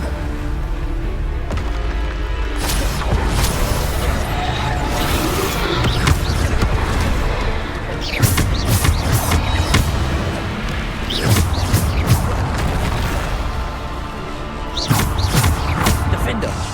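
Bombarda spell blasts in Hogwarts Legacy combat: repeated booming thuds and crashes in sharp bursts over a dense, steady game soundscape, with a voice shouting through the fight.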